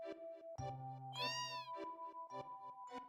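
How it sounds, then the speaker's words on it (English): A cat meows in the Final Fantasy VII video game, a single close, clear mew with a rising and falling pitch over steady game music, followed by a quieter second call. "Cat."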